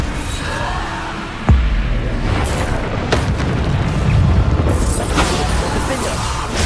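Bombarda blasting spell in the video game Hogwarts Legacy: a sharp, loud boom erupts and rolls into a dense roar of crackling debris and combat noise that lingers for several seconds, with further bursts near the end.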